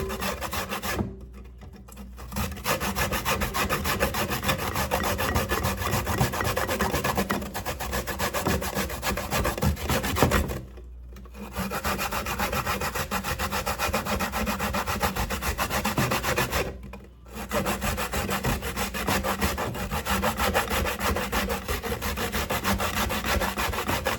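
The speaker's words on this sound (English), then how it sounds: "I'm using my grater to grate my coconut." Fresh coconut rasped against the smallest holes of a metal hand grater, a steady scraping in long continuous runs with brief pauses, close and fairly loud, no talking.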